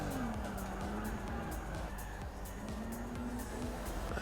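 Race car engines in Forza Motorsport 6 video game, chasing an Alfa Romeo down the straight at Lime Rock: a steady droning engine note that dips and climbs again, under a faint voice.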